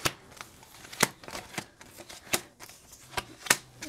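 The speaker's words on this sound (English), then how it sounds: "I have to lay these cards out so I can see them." Tarot cards being shuffled and laid out: a run of soft, close snaps and slaps of cards hitting a surface at irregular intervals, quiet and with no talking.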